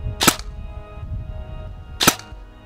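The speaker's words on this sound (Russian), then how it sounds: "Мне понравились очень четкие щелчки при регулировке." Hop-up rotary adjustment on a G&G ARP 9 airsoft gun with a plastic hop-up chamber, two crisp distinct clicks about two seconds apart, close and alone.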